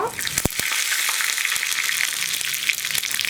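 Curry leaves and dried red chillies crackle and sizzle in hot oil, a steady bright hiss with sharp pops scattered throughout, close and loud.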